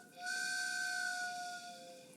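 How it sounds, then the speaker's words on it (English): A steady, shrill whistle holds for about two seconds, a steam-style train whistle with a faint hiss, fairly distant and alone. "when the whistle sounded"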